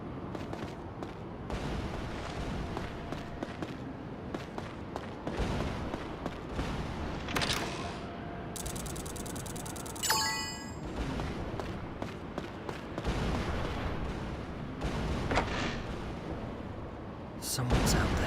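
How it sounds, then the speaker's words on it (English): Warship cannon fire in the video game The Last Story, heavy booming blasts and rumbling impacts layered with game music and effects, loud and continuous, while characters speak over the action. "I can't believe they'd shoot at us with the cannon."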